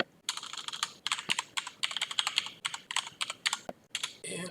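Rapid keystrokes on a computer keyboard entering a short Linux terminal command, crisp close clicks in quick bursts with brief pauses between them, no voices.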